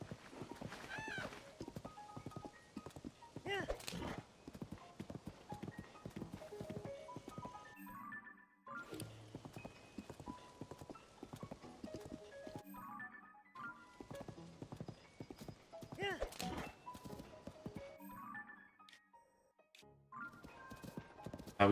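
Steady clip-clop of horse hooves trotting along in the video game Zelda: Tears of the Kingdom, rhythmic and fairly close, with a brief whinny and short pauses between stretches of hoofbeats.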